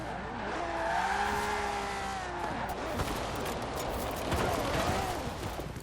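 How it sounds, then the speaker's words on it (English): Ferrari 250LM engine in the racing game Forza Horizon 4, a sustained tonal engine note rising and falling through shifts, mixed with tire squeal as the car slides, steady and close throughout. "But that Ferrari sound is just unmistakable."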